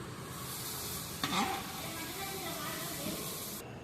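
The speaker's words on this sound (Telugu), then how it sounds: "చూడండి ఫ్రెండ్స్, ఇదేమో చికెన్ కుక్ అవుతుంది" Chicken pieces fry in a pan for biryani, a steady loud sizzle close by with one brief stirring clatter and no one speaking.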